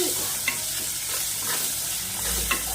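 Onions fry in a pan with turmeric and ginger paste, a steady close sizzle with occasional scraping stirs throughout.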